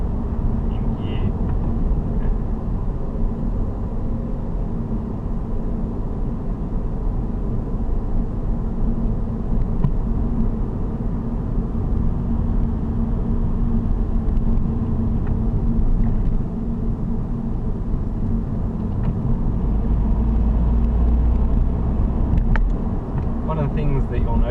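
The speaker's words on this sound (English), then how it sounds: "Cars ahead seem to be stopped, so I'll just cruise in neutral, and actually I'll start to decelerate in gear." A car slows down in gear on the road, with a steady, loud, low engine and tyre rumble that holds nearly constant throughout.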